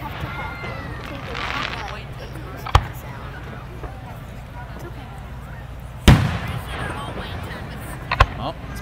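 Canada Day fireworks go off at Columbia Lake as three sharp booms over several seconds, the middle one loudest. The bangs echo across open air as people chatter in the background.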